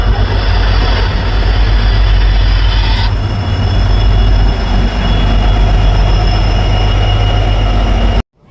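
A passenger train rolls into a station, a loud close roar of engine and wheels that holds steady for about eight seconds before cutting off abruptly.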